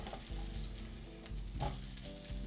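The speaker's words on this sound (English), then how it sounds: "You just want to warm it up a little bit with that olive oil and that butter in it." Leftover meatloaf warms in a pan with olive oil and butter, a quiet, close, steady sizzle with small crackling pulses.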